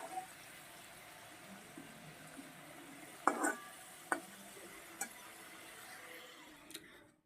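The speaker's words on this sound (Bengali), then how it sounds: "ওই ডিম ভাজা তেলেই আমি আলুটাও সুন্দর করে ভেজে নিচ্ছি" Quiet, steady sizzle of new potatoes frying in the oil left from frying eggs, broken by a few sharp clinks and scrapes of stirring.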